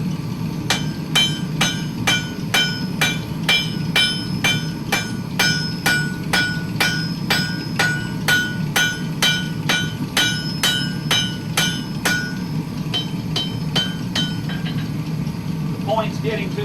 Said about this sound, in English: I'm going to push the hammer away from it.